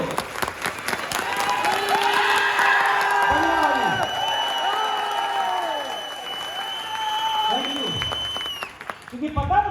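An audience at a direct-selling training session claps loudly, with cheering, whoops and shouted voices rising over the dense applause before it breaks off near the end.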